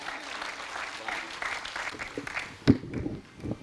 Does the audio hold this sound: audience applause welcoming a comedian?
yes